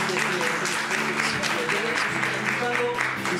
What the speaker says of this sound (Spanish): un fuerte aplauso para este gran artista